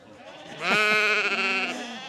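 A single sheep gives one close, wavering bleat about a second long, heard on its own against a quiet background.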